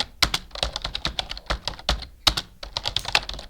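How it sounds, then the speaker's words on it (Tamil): Rapid clacking of keys on a computer keyboard, uneven bursts of taps up close with no one talking. "நானுமே இப்போ எஸ் அப்படின்றத டைப் பண்ணுறேன்"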